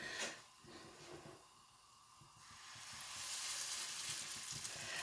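Cheese-filled potato cakes sizzle in a frying pan with a steady, close hiss that swells louder toward the end; no talking.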